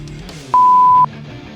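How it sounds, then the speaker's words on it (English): A single electronic timer beep sounds steadily for about half a second, close and loud, with quiet room ambience around it. "It's the timer"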